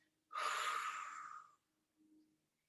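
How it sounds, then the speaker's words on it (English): During a yoga session, a long, steady breath is pushed out through the mouth, a soft airy whoosh lasting about a second. A faint short exhale follows, close and quiet. "as we breathe out, letting all of that air go and breathing out of our mouths"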